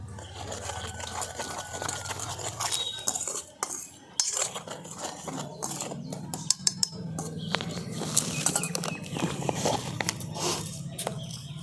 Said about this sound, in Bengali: এবার সব কিছু আমি একসঙ্গে শুকনো অবস্থায় ভালো করে একটু মিশিয়ে নিচ্ছি